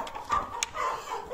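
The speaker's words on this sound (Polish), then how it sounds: "Tu młode koguty mi szaleją, moi drodzy." Young roosters in a backyard poultry flock cluck and squawk in short bursts at moderate distance, with a few sharper calls among the murmuring birds.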